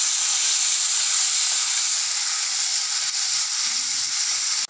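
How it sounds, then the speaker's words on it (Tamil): Chopped tomatoes, whole garlic cloves and a dried red chilli sauté in a hot pan, giving a steady, close, hissing sizzle that carries on without a break and stops abruptly at the end. "தக்காளி பூண்டு நல்லா வதங்கிருச்சு"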